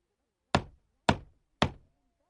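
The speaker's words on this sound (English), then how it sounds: "He knocks on the door of Grandma's house." Three evenly spaced knocks on the door of a grandmother's house in a children's story, sharp and close, each a single hollow rap followed by silence.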